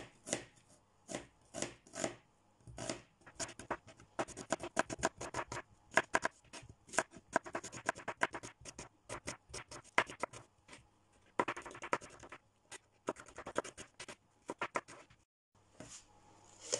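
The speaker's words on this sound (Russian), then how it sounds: "Но лук будем нарезать не ну как всегда мы режем, а будем нарезать перьями." Four large onions sliced into thin strips with a knife, a long run of quick, crisp cuts in bursts with brief pauses, close and fairly quiet, with no talking.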